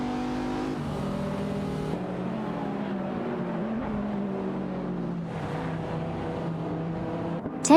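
Race car engines from an AI racing video game, with a BMW and a Dodge Viper SRT among the field, drone in a steady loud layered roar, pitches sliding as the cars accelerate and shift, with a brief louder burst at the end.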